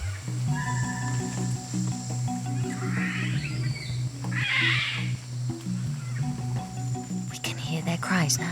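Woolly monkeys cry out from the Amazon rainforest canopy in a few scattered calls, set against a dense, steady hum of insects and forest ambience.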